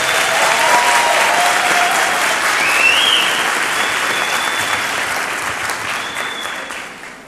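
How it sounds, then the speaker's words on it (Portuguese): A lecture audience applauds as a speaker is introduced on the main stage, loud, sustained clapping that slowly tapers off over seven seconds. "Vamos aplaudir."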